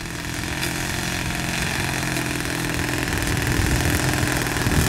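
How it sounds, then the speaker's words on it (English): A Thunder Tiger 54 four-stroke glow engine runs on an RC trainer plane, a steady buzzing drone that stays close and even and climbs slightly in loudness toward the end. "Look at the engine. Look how the engine is running."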